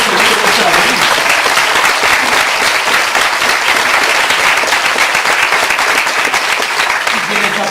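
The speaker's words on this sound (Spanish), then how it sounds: "Aplauden" Loud, dense audience applause at a live talk fills the room, sustained and even with a crowd murmur beneath and a voice briefly heard under the clapping.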